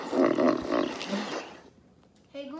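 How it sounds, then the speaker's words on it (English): Hippopotamus call, a loud deep roaring grunt lasting over a second that fades out, followed by a brief synthetic voice starting up at the end. "What sound does a hippopotamus make? Here's a hippopotamus."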